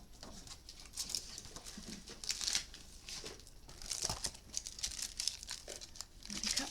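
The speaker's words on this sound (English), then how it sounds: "I'm going to cut it from here" Scissors cut through a piece of paper page, producing close, quiet crisp snips and rustling crinkles in an uneven run, with no talking.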